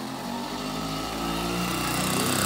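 A motorcycle with a cut exhaust pipe revs hard while climbing a hill, its loud raspy drone rising steadily in pitch close by.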